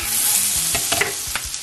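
Eggplant sautéing in a pan for Filipino kare-kare, a loud steady sizzle with quick scraping stirs and utensil knocks close by, no voices.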